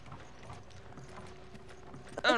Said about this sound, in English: It's exactly like a horse.